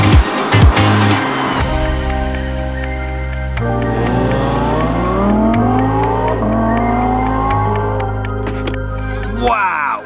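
A 2022 Audi R8 V10 Performance Carbon Black Spyder accelerates hard, the engine snarling up through several gears in rising sweeps with brief dips at each shift, loud and close from start to end.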